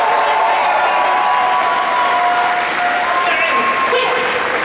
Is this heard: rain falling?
no